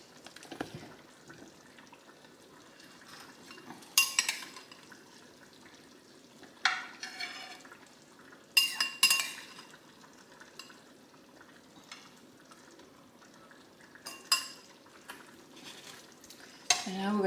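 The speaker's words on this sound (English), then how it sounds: "now we're going to serve ourselves a little bit of this" Food is served from a pot of pollo enchilado, chicken in red mole, onto a plate: soft scraping and stirring with a few sharp clinks of utensil against pot and plate, spaced apart over a quiet background.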